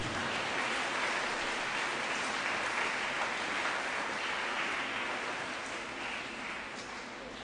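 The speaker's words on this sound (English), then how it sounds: "Let's give him a round of applause." An audience at a school's 25th anniversary launch applauds the board chair with dense, sustained clapping that holds steady and then tapers slightly toward the end, with no voices on top.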